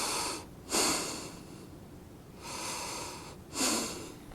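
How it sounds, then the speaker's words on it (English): Deep diaphragmatic breaths during a plank exercise: two long, loud airy exhalations and inhalations separated by quiet pauses, close to the microphone with no talking. "deep diaphragmatic breathing"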